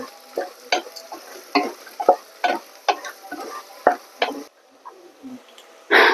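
Beef kurma with spices is stirred in a frying pan, giving a rhythmic series of scraping, clattering spoon strokes over a light sizzle, close and fairly loud, then a short pause and one last scrape.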